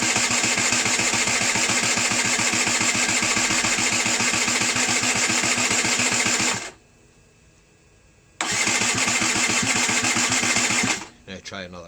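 A rebuilt Derbi Senda moped engine fires and runs loud and close with a buzzing two-stroke rattle, cuts out for a couple of seconds, restarts and runs again before dropping away.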